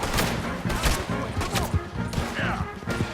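Rapid gunfire in Red Dead Redemption 2, a dense volley of overlapping close shots cracking in quick succession under a rumbling backdrop.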